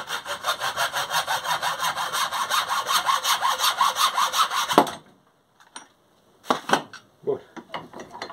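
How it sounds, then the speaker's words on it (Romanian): A cracked sprayer pump rod being cut with a hand saw, steady rhythmic strokes for several seconds, then stopping and followed by a few short clicks and knocks. "S-a fisurat tija de la pompă, așa că trebuie să o tai de acolo de unde este fisurată."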